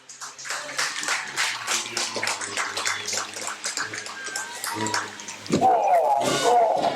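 A crowd at a stock car ramp rollover event claps and cheers for a driver, a rhythmic patter of claps followed by a rising, louder swell of cheering near the end.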